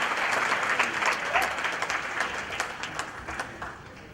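Sustained audience applause fills a graduation ceremony hall, a dense wash of many hands clapping at steady volume, with a few sharper individual claps standing out before it slowly eases toward the end.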